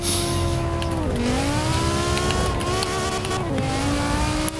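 A BMW E60 engine in Forza Horizon 4 drones loudly and steadily while drifting, its pitch dipping and rising as it shifts and revs, with a hint of tire squeal.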